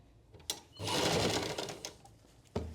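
A sewing machine stitching a sleeve onto a blouse runs in a steady close whirring burst for about a second and a half, with short clicks before and after as the fabric is positioned.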